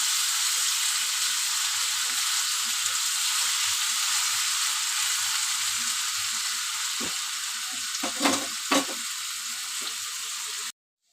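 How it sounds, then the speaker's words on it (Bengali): Potatoes with salt and a little turmeric sizzle in a pan, a constant close hiss broken near the end by a few louder scraping stirs before the sound cuts off abruptly. "আলুটা আমি লাল লাল করে ভেজে নেব।"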